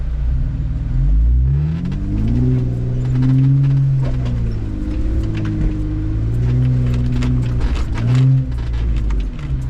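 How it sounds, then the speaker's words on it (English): Rally car engine held at a steady throttle over a rough, shaky road, loud close cabin drone with pitch wavering up and down and constant rattling. "Just trying to keep a steady, smooth throttle, which is kind of hard with how shaky this road is."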